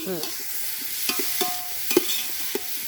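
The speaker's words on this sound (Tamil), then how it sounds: "வெங்காயம் பச்சை மிளகாய் போட்டு நல்லா கிண்டணும்." Onions and green chillies are stirred as they fry in a pan, a soft continuous sizzle broken by several distinct scraping and tapping strokes of the spoon, close and clear.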